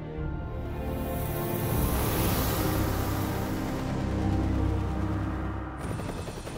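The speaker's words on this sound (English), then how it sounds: "The helicopter, indispensable for combat missions, a workhorse for supplying the front line." A military helicopter used for combat missions and front-line supply gives off a loud, steady rotor and engine roar with a rapid throbbing pulse that fills the whole stretch without letup.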